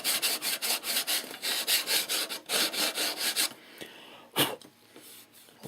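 Rhythmic back-and-forth scratching of sandpaper on a wooden model airplane elevator, about a dozen quick strokes, then a pause and one last rasp.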